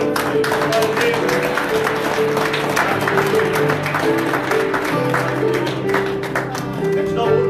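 A church congregation applauds steadily throughout, dense clapping filling the room while a preacher's voice speaks over it.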